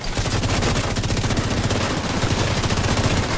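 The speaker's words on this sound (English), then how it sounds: "they keep shooting you through the tarp" Dense, loud gunfire in a shooting video game, a rapid, continuous stream of automatic shots and overlapping bursts that carries on without a break and with no talking.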